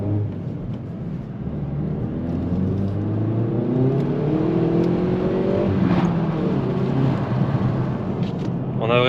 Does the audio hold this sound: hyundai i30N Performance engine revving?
yes